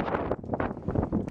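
Windstorm gusts outdoors in Alaska during an ice storm, heavy wind pounding the microphone in uneven bursts that swell and drop over a brief moment.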